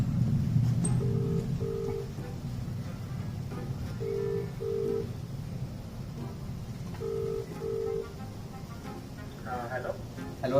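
A telephone call is placed: close DTMF dialing tones come first, then evenly spaced pairs of ringback beeps repeat over steady background hum, with no one speaking.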